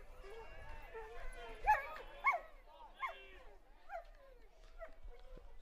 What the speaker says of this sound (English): There's a dog somewhere in the park that is not happy.